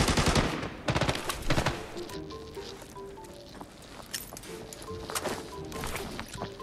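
Bursts of M80 rifle fire in a shooter video game: a dense volley of loud, close gunshots in the first two seconds, then scattered quieter shots and game ambience.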